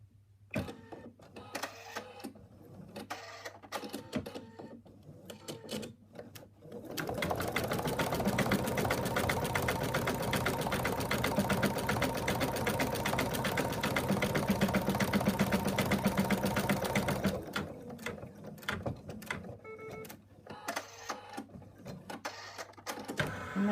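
Embroidery machine stitching an in-the-hoop elephant, running at a fast, steady mechanical rattle for about ten seconds, with quieter handling noises before and after.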